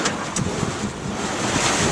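A sailing boat under spinnaker bobbing slowly at sea, with a steady broadband rush of wind across the microphone and the wash of waves around the hull, continuous and fairly loud throughout.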